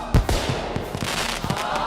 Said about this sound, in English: Those are some interesting fireworks.